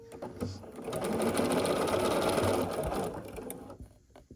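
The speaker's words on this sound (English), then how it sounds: "I'm going to begin sewing here." Sewing machine stitching a fabric strip onto a rectangle for a quilt block, a steady close whirring run of about three seconds that starts and stops abruptly, with no talk.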